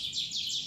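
A white-rumped shama (murai batu) in a hanging cage gives quick, high chirping notes in a short repeated phrase, fairly clear against faint background hiss.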